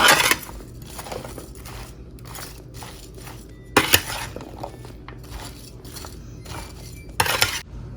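Okra being mixed with spices in a dish, a run of irregular clinks, scrapes and soft crunches from a utensil against the dish, close up, with a few louder knocks and quiet gaps between.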